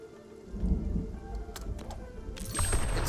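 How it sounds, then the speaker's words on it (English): Thunder rolls in the video game Spiritfarer, a deep continuous rumble under steady rainfall hiss, swelling louder toward the end with no voices. "we got ourselves some more thunder"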